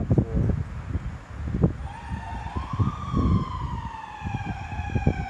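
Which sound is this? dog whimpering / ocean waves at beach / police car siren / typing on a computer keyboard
police car siren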